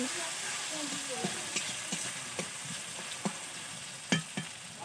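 Tomatoes frying in a pan, a continuous hissing sizzle with scattered pops and stirring knocks, one louder clatter near the end, with faint talk in the background.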